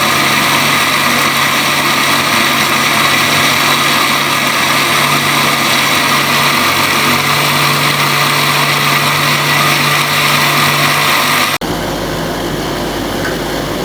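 An electric grinder whirs loudly and steadily while blending yogurt, onion and nihari masala into a paste, a continuous motor drone that cuts off near the end.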